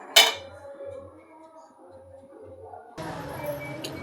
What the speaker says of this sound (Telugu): ఒకసారి కలుపుకొని మూత పెట్టేసుకుందాం.